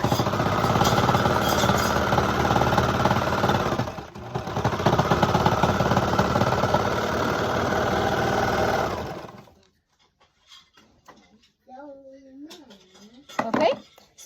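A serger sewing machine runs steadily through romper fabric with a dense mechanical whir and a short pause, then stops; afterward a person talks briefly in a quiet room.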